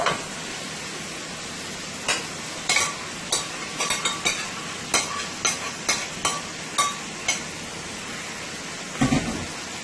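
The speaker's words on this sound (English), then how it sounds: "Let's go ahead and add our beef to the pot." Beef sizzling and frying in a pot for stew under a steady hiss, punctuated by a string of sharp clinks and scrapes from stirring, close up.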